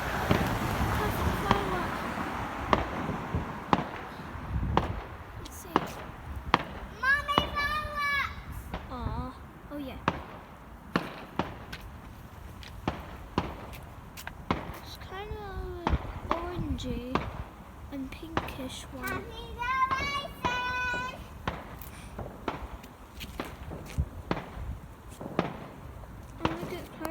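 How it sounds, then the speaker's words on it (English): Bonfire night fireworks pop and crackle outdoors in repeated sharp bursts at middle distance, scattered across the whole stretch, while a person talks excitedly between them. "Yes! Perfect firework."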